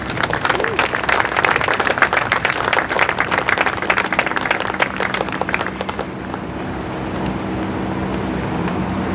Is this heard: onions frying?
no